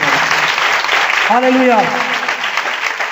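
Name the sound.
congregation applauding loudly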